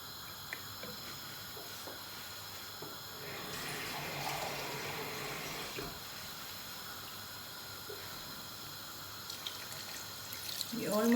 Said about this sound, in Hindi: थोड़ा सा और पानी जाएगा इसमें।